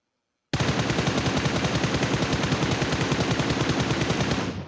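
A shooter video game lets loose a sustained, fast automatic burst, loud and close. The tightly spaced shots run evenly for about four seconds and stop abruptly.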